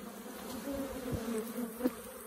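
Honeybees in a broodless hive colony with caged queens hum in a close, steady buzz that wavers in pitch, with individual bees droning past. No speech.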